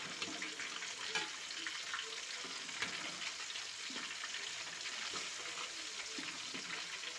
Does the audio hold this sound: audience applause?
no